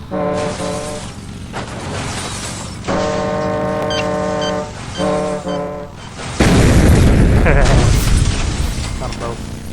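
Vehicle crash in the Road Redemption video game, a heavy booming impact with a loud rumbling burst late in the clip, over game music and engine noise.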